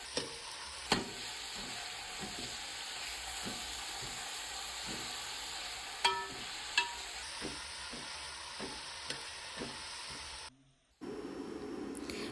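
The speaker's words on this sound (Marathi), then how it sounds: "बारीक चिरलेला कांदा आहे तो या तेलामध्ये टाकून घ्यायचा आहे आणि कांदा लालसर होईपर्यंत शिजून द्यायचा आहे" Finely chopped onion fries in hot oil in a pan for a dried mandeli fish curry, giving a steady close sizzle with a few sharp stirring clacks against the pan, no talking over it.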